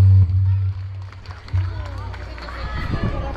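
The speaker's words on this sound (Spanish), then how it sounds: "Fuerte los aplausos." Audience applause at a Christmas carol contest in Chilete, called for a child performer dressed as an angel: dense, steady clapping from a crowd that builds toward the end, over low background hum.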